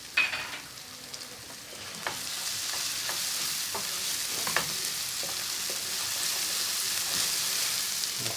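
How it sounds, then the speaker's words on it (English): Green chilies fry in oil in a pan with a steady, bright sizzle that swells after a couple of seconds, broken by occasional small pops and stirring clicks, heard close and without talk. "Next, I'm going to add my green chilies."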